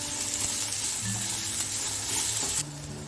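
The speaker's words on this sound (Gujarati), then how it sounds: "બધું સારી રીતે મિક્સ કરી દઈશું" Vegetables with spring onion greens sizzle loudly in a hot pan with constant hissing and light stirring; the sizzle drops quieter near the end.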